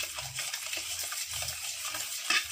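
Spoon stirring milk and sugar together in a small bowl, a soft scraping swirl repeating in slow strokes, close and alone, with a brief clink near the end.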